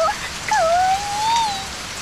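Rain pours in a BanG Dream video game scene, a loud, steady wash of falling drops with a thin whistling tone gliding over it partway through.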